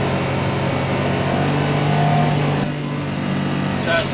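A UTV engine runs steadily in low gear inside the cabin, a constant mid-range drone at close range that dips briefly partway through.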